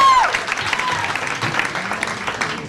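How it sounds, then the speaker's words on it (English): Audience applause and crowd noise fill a comedy club during a stand-up set, a loud, steady roar of clapping that runs throughout, with a brief whistle or cheer near the start. "How many people, by round of applause, have ever been totally flat out broke at some point in their lives?"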